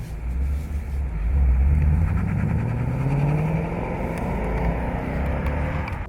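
A deep V8 exhaust from a 2015 Ford Mustang GT rumbles loudly and close, rising in pitch as the engine revs, then settling into a steady throaty drone.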